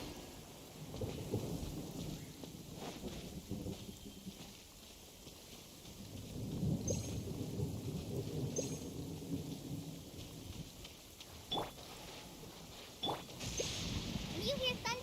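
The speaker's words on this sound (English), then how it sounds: "When you hear thunder," Thunder rumbles over steady rain in the video game Genshin Impact. Rolling booms swell and fade through a long, continuous downpour, with sharper cracks near the end.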